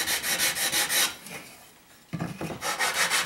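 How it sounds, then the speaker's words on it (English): Close, steady back-and-forth rasping as a wooden guitar headstock is sanded by hand, in rhythmic strokes with a brief pause midway before the rubbing resumes. "I'm doing my final little bit of sanding here."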